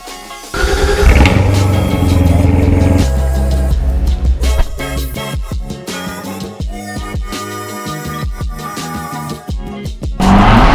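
A wrapped Chevrolet Corvette Z06 drives to the dealership, its engine loud and close, rising and falling through repeated revs and gear changes.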